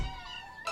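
Kittens in an animated cartoon meow, one drawn-out cry followed by a sharper second meow near the end, close and fairly quiet with no talk.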